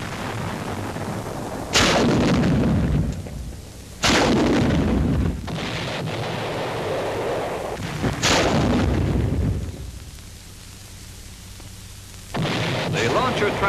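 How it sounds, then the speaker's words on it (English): Smoke rockets launched from a turret-mounted launcher on an armored engineer vehicle, fired in four separate loud, booming salvos spaced a few seconds apart, each followed by a roaring rush that fades away. "using smoke rockets, the launcher is mounted on the armored vehicle"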